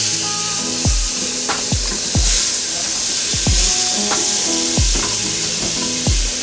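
A butter and pot roast mixture sizzles loudly in an Instant Pot under a constant hiss, while a utensil stirs it with repeated scraping knocks against the pot, close up.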